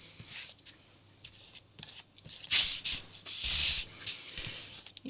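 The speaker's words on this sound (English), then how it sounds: "So I'm just simply scraping over them." A scraper or card is dragged across paint on mixed media cards, giving soft, close rubbing and scraping strokes, several brief passes with two louder, longer scrapes near the middle.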